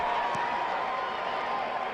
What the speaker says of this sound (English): the crowd gets on their feet to applaud